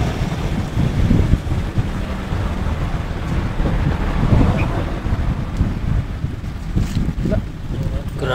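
Strong wind buffets a microphone in loud, rumbling gusts during fishing on shallow water, with water sloshing beneath and faint voices now and then.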